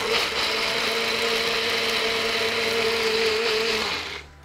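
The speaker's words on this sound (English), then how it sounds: "we're gonna blend this really quick" A blender whirs steadily at high speed as it emulsifies a homemade salad dressing, loud and close for about four seconds before winding down.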